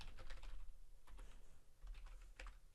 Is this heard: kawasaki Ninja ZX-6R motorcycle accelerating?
no